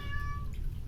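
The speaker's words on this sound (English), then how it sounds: "That's my cat meowing." A loud domestic cat lets out one drawn-out meow close by, with a low background hum underneath.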